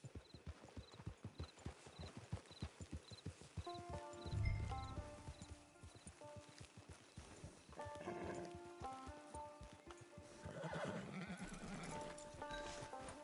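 Horse hooves clip-clop at a steady trotting rhythm in a video game, then the horse gives a loud whinny and later neighs again over soft background music.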